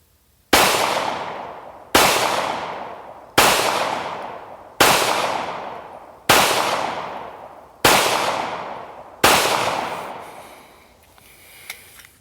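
Seven loud, evenly spaced pistol shots from a Springfield Armory Echelon fired at 20 yards on a range, each a sharp crack with a ringing decay, followed by quiet handling noise.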